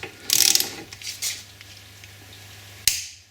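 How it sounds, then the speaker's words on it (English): Ratchet clicking rapidly while tightening the brake caliper guide pins on a Mini R50 to 30 Nm, a close burst of ratcheting followed by a short pause and a final sharp click. "these little guide pins I'm just doing to 30 Newton meters"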